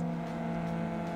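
Opponent race car in GT Racing 2 overtaking, a steady loud engine drone with strong harmonic hum held close throughout, no voices.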